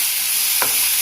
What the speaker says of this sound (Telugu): ఇలా మొత్తం కలిసేలా కలుపుకోండి.